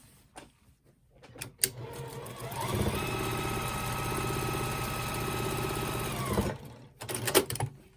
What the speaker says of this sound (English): I'm going to center that on this end and sew it on.